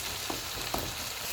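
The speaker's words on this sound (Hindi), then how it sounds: "अब चूल्हे को हम मीडियम कर देते हैं और इसको भून लेते हैं।" Biryani masala frying in a pot over medium heat, giving a continuous soft sizzle with two brief stirring scrapes.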